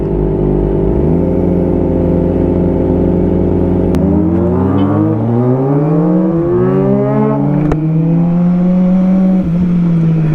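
A Kawasaki ZX25R motorcycle with a stock exhaust warming up at idle, a loud close mechanical drone that rises and shifts in pitch as the revs climb and settle.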